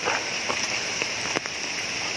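Heavy rain pouring steadily on surfaces, a dense, loud, continuous hiss with no break.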